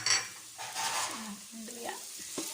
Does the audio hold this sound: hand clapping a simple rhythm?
no